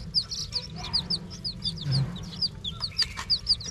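Chickens cluck busily while being fed, a rapid run of short overlapping calls close by with no talking over them.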